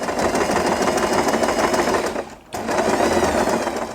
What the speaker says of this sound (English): And we are going to sew this part for the last time.